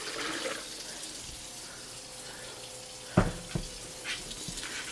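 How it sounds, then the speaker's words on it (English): Hot water running from a kitchen tap during home bread making: a steady rushing stream, with a few short clunks and splashes near the end. "And some nice hot water."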